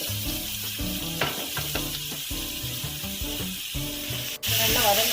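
Chopped onions and green chillies sizzle and fry in a pan, a steady close crackling hiss broken by scraping stirs, with a brief sharp clack near the end.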